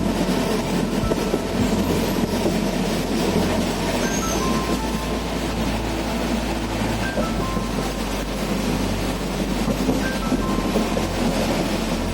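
The Kavi Guru Express runs on rails in a steady, loud interior rumble with a constant low drone, faint rhythmic clatter and occasional high squeals, no voices.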